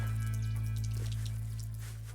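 Water gushes steadily from a well spigot in Nairiri, Africa into a 5-gallon drum, a constant loud pour with a low drumming resonance that fades slightly as it fills.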